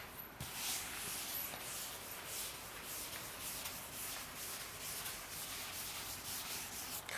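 Writing is rubbed off a board with a continuous scrubbing friction that stays steady and fairly close throughout, with no talking.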